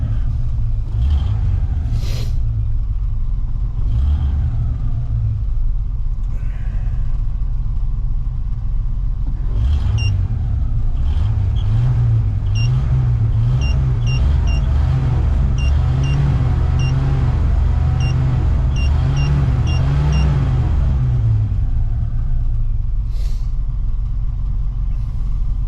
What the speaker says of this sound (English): I'm going to let this idle for probably another 10-15 minutes or so some charge and get in the battery real good